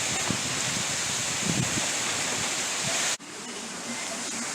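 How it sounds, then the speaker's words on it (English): Strong wind gusts during a storm in Port Charlotte, Florida, a loud rushing roar that cuts off sharply, then returns slightly weaker. "but now the wind gusts are picking back up again."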